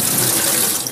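Water pours from a tap into a cooking pot to wash spinach, a loud, steady, close splashing rush lasting about a second.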